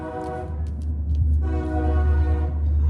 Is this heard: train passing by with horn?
yes